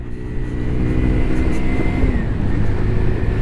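Zontes Mantis 125cc motorcycle engine droning steadily and close while riding, holding a constant high-revving pitch that rises slightly as it pulls through the gears, with wind rush throughout.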